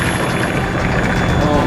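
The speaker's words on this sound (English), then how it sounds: "There goes the Kasatka, the chopper." The Kasatka helicopter in the video game Metal Gear Solid 2 gives off a loud, steady rotor and engine roar that fills the whole stretch, with no talk over it.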